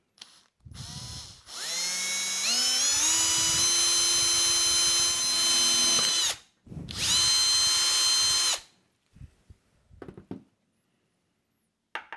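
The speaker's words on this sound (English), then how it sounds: "Let's take a 5 millimeter drill bit and drill a hole in here." A power drill with a 5 millimeter bit whirs loudly up to speed and bores through a plastic pill box in two long bursts, pitch rising, followed by a few faint handling clicks.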